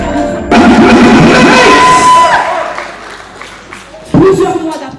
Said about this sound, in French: s'il vous plaît, de les applaudir très très fort